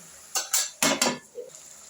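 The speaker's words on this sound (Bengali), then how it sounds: "এবার আমি ঢেকে দিচ্ছি।" A lid is set onto a cooking pan over several sharp metallic clanks in quick succession, close and distinct against quiet kitchen background, followed by a softer ring.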